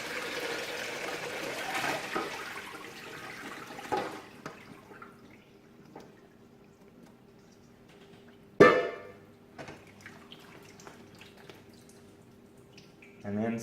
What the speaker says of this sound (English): And then I'll drain it again.